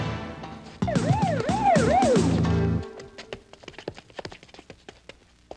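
A police car siren wails loudly nearby in rising and falling sweeps for a couple of seconds, then cuts off, leaving scattered footsteps and taps as people scramble in a street chase.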